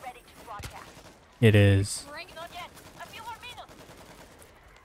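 A single-fire gun going off in a video game: one loud, sharp shot in the middle, with someone talking briefly before and after it.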